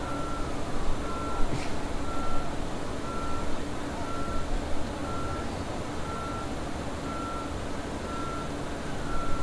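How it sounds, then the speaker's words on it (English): Reversing beeps from a dump truck in the video game Construction Simulator 2 sound steadily and evenly spaced under a constant engine rumble, moderately loud with no talk. "now we gotta back our dump truck over here to our excavator again"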